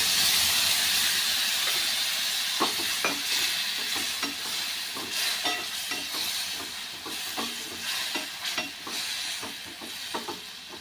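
Water hisses and sizzles as it hits a hot pan of cluster bean stir-fry, followed by a steady frying sizzle with scattered clinks of stirring.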